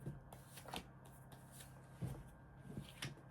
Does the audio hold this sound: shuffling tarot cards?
yes